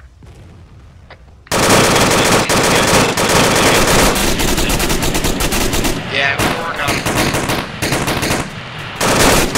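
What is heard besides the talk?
heavy machine gun firing in a military video game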